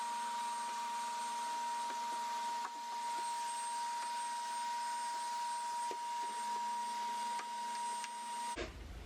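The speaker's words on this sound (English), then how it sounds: "now I am going to go ahead and vacuum out all the rest of it because it's basically just dust left" A vacuum cleaner sucks up leftover dust from a hamster cage, a steady high-pitched whine and motor hum running continuously with faint rattles, cutting off abruptly near the end.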